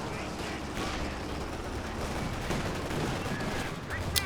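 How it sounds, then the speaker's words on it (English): Anti-tank gun firing in a World War II real-time strategy game, amid a dense, continuous rumble of battle gunfire and explosions. "Anti-tank gun gets a nice shot off."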